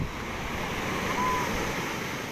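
High sea waves crash during Tropical Storm Pabuk, a steady broadband roar of surf mixed with wind buffeting the microphone, continuous and loud with no clear separate breakers.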